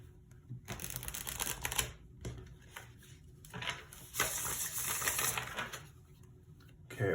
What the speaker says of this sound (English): I'm having to do a lot of hard shuffles.